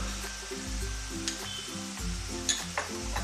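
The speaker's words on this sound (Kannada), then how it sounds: "ಅದನ್ನು ಚೆನ್ನಾಗಿ ಫ್ರೈ ಮಾಡ್ಕೊಳ್ಬೇಕು." Ginger garlic paste frying with golden-browned onions in a pan for a mutton keema gravy, a steady close sizzle with occasional sharp stirring clinks and scrapes, under a low repeating background music bed.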